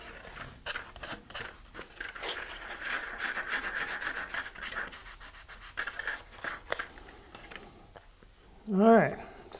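Fine grit sandpaper rubbing over the tail fins of a Stratus Gale glider, giving a steady scratchy hiss in close quarters with repeated strokes, then a short, louder higher-pitched squeak near the end.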